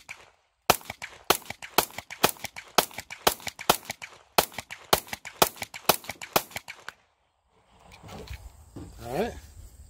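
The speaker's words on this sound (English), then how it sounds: "now we're going to try out this DRZ Turkish ammo." Taurus GX4XL 9mm pistol firing Turkish DRZ ammunition at a range: a rapid string of about twenty sharp, loud shots in quick succession, then quiet with some faint rustling and a short voice-like sound afterward.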